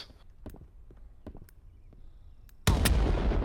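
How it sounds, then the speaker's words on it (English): Updated grenade explosions in a video game: scattered faint clicks and thuds, then a sudden loud explosive burst with a sustained roaring rumble that carries to the end. "Oh, by the way, I forgot to mention we actually updated our explosions."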